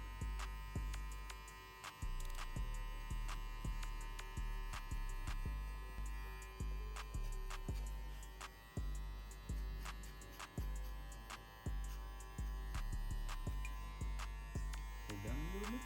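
Hair clippers fitted with a one guard, lever fully closed, buzz steadily up close while cutting hair, with a constant mains-like hum and faint rhythmic ticks and strokes throughout.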